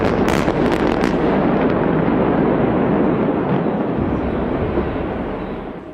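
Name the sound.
controlled demolition explosion of Genoa bridge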